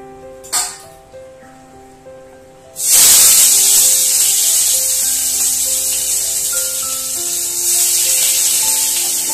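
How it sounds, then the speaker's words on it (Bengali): Chopped onion drops into hot mustard oil with a sudden loud hiss, then a steady, bright sizzle holds and swells slightly, after a few faint clinks and taps beforehand. "এবার আমি পেঁয়াজ কুচানোটা দিয়ে দেবো।"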